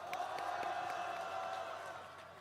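Crowd applause and cheering at an outdoor March 1st rally at Gwanghwamun, Seoul, sounding somewhat distant and washed out: a continuous, even bed of clapping with scattered sharper claps, gradually easing off toward the end.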